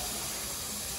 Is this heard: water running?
yes